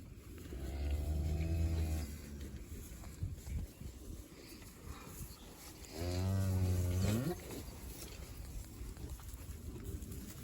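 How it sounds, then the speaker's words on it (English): Cows mooing on a farm, two long, deep, drawn-out moos a few seconds apart, close and loud over a low background hum. "How's all my cow friends today?"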